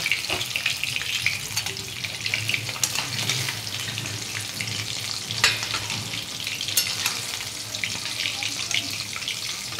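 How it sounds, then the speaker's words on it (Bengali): Fish fries in hot oil for a Bengali home dish, giving a continuous close sizzle dotted with sharp pops and crackles throughout. "মাছগুলো ভাজা হয়ে গেছে, এবার মাছগুলোকে তুলে নেব।"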